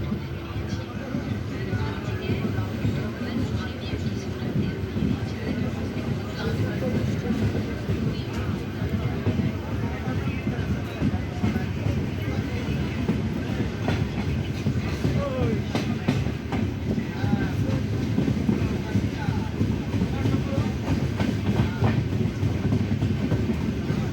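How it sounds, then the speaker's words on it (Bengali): The Howrah–Digha Tamralipta Express rolls along at speed, a loud continuous rumble of wheels on rails with faint rhythmic clicking throughout, heard from inside a coach with a low murmur of passengers. "আমাদের এই ট্রেন পৌঁছে গেছে তার যাত্রাপথে ষষ্ঠ স্টেশন রামনগরে"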